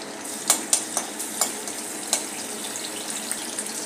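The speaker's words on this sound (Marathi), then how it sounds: "अद्रक लसूण ठेचून घेतलेला आहे, तोही घातला आहे। हे आपण चांगले परतून घेऊया।" Crushed ginger, garlic and curry leaves sautéing in a hot pan: a continuous soft sizzle with several sharp spatula scrapes and clinks against the metal, close by and with no voices.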